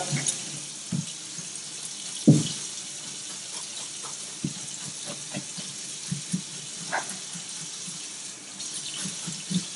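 Tap water runs steadily into a sink, with dishes or a fish being scrubbed in hot soapy water, broken by scattered clunks and scraping knocks, close by and with little talk.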